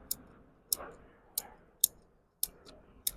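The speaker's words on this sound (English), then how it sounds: "you notice I'm using my Felco secateurs" Felco secateurs snip the tips off pine candles, making six crisp, quiet clicks spaced about half a second apart.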